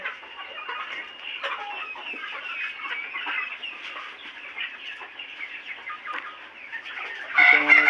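Farm broiler chickens about 60 days old clucking and fussing continuously at moderate volume, a dense flock chatter with a louder burst near the end.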